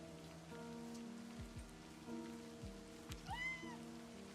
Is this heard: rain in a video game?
yes